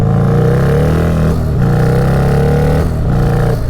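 Turbocharged 131ci Stage 4 Harley-Davidson Street Glide accelerating hard, a loud, close, sustained engine roar with two brief dips in pitch as the rear tire slips and the revs surge.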